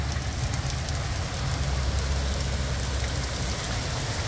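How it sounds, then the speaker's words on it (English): Steady rain falls outside in a continuous dense hiss with low rumble, loud and even throughout, with no voices. "And we're getting some rain."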